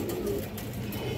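Red Muslodom pigeon, a female, cooing in a low steady murmur close by, with loft noise in the background and no talk.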